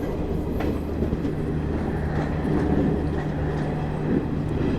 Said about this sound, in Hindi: नई दिल्ली डिब्रूगढ़ राजधानी एक्सप्रेस।